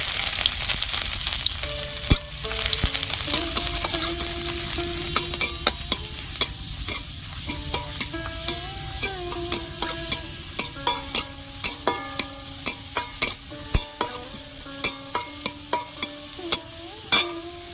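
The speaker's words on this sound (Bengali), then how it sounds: "ওই তেলের মধ্যে আমি রসুন কুচি দেবো" Chopped garlic fries in hot mustard oil in a pan, a close, constant sizzle cut by sharp spatula scrapes and taps that grow more frequent and rhythmic as the stirring goes on, with no voices.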